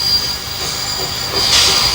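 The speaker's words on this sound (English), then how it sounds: "The Burke's Colliery Barclay is shunting wagons ready for a reshunt by the New Zealand Railways." A Barclay steam locomotive at Burke's Colliery shunts wagons on New Zealand rails, with a steady loud rumble and hiss, a thin sustained wheel squeal and a brief louder steam burst near the end.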